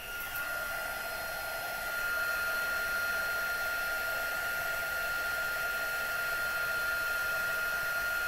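Heat tool melting stamped embossing powder on a craft project, a constant close whirring blower hiss with a steady whine, continuous and unchanging with no talk.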